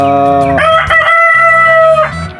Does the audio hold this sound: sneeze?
no